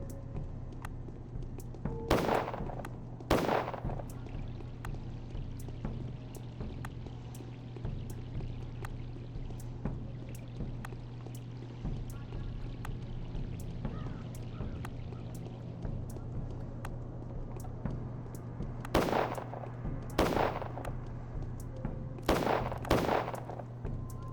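Gunfire from a small pistol in the horror game Pathologic: a pair of sharp shots early on, then a cluster of four more near the end, each crack standing out over a steady low ambient drone.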